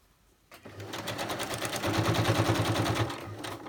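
Sewing machine running a straight stitch while working a project, a close rapid mechanical chatter that starts after a brief quiet moment, rises slightly, and holds a steady fast rhythm before easing off at the end.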